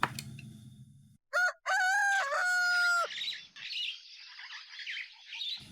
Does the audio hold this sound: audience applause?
no